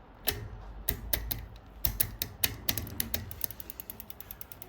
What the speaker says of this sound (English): So need to tighten the cable a little bit, like so.